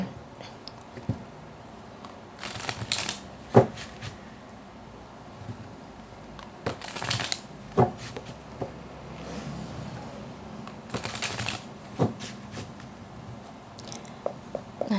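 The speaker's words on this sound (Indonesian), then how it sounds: "ketika aku shuffle kartu ini" Tarot cards being shuffled by hand, soft papery riffles and rustles coming in short bursts with small taps between them, close up and fairly quiet, with no talking.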